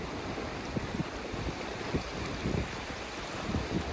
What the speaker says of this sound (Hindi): और ये देखो भाई लहरें कैसे उठ रही है ना।